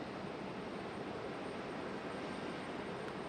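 An American Airlines Airbus A321 on arrival from Charlotte gives a steady, broad jet roar at low level, unbroken and with no voices.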